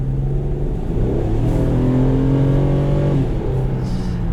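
A 2010 Infiniti M35X sedan's naturally aspirated V6 revs loudly and steadily, its harmonic engine note climbing through the middle of the run and then dropping back, with no talking over it.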